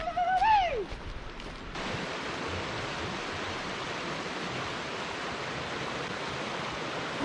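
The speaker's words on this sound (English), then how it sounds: "that little teeny waterfall under that bridge, how loud it can be" A small waterfall pours beneath a bridge at the Sherry Spring Nature Area in Pocatello, Idaho, a loud, broad, steady rush of water that takes over after a brief squeal at the start and continues unbroken.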